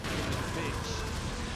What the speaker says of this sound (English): Shotgun back at that. Keep constantly keep shooting like this.